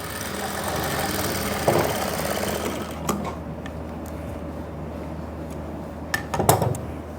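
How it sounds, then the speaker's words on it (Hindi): An electric sewing machine stitches trousers with a steady mechanical whir for about three seconds, then stops, leaving a quieter hum broken by a few clicks and handling knocks. "सिलाई को मैंने कंटिन्यू कर लेना है।"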